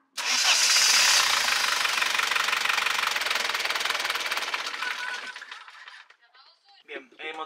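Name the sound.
sailboat engine being started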